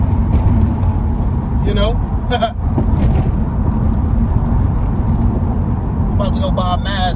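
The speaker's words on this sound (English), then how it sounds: "Do a few power shifts," Acura RSX with a K24 engine driving hard through power shifts: a loud, constant engine and road drone heard from inside the car, with someone talking over it.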